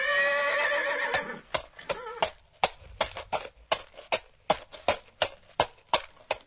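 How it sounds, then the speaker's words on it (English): A horse whinnies at first, then its hooves clip-clop in an even walking rhythm, about a dozen crisp, distinct steps. "that sounds like a horse walking"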